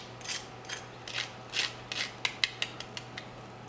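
Crisp roast chicken skin crunching and crackling in a series of sharp, close bursts, about a dozen irregular crackles over a few seconds with a low steady hum underneath and no talking.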